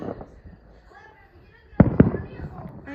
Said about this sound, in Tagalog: Ayun anak, fireworks. Fireworks naman.